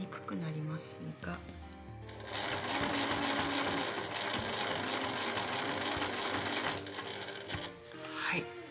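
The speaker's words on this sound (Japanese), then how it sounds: "反対側は縫い終わりの方から際を縫っていきます。" A sewing machine stitches steadily along the edge of a fabric pouch made from scraps, a continuous mechanical whir that runs loud and even through most of the stretch, with someone speaking briefly before and after.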